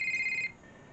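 A video game telephone in Five Nights at Pinkie's gives one short electronic ring, bright and close, then cuts off into quiet background hum.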